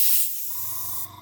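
Air from a Gaahleri Mobius SP airbrush blown back through the nozzle, a loud close hiss that cuts off abruptly, then a low steady hum with a brief rise of hiss at the end.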